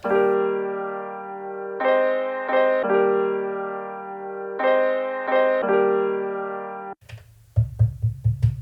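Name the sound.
pitched sample played on MPC sampler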